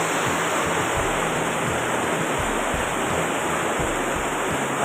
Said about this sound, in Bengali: খুব ধীরে ধীরে নিচ দিয়ে জল বয়ে চলেছে।